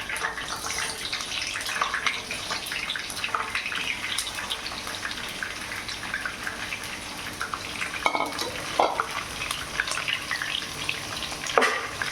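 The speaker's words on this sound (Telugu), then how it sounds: "మనం ఇప్పుడు ఒక మూకిడి పెట్టుకొని కొంచెం ఆయిల్ వేసుకుందాం మన కాకరకాయలను ఫ్రై చేసుకుందాం" Bitter gourds sizzle and fry in oil in a pan for a stuffed masala curry, a steady close crackle with occasional stirring clatter and no talking.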